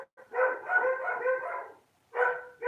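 Pet dogs howl indoors, one long drawn-out harmonic howl of nearly two seconds, then a brief pause before another howl starts, loud and close with no talking.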